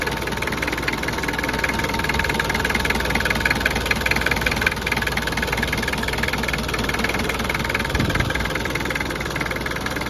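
A pickup truck engine idles close by, a steady rumbling drone with a faint mechanical knock running evenly and continuously throughout.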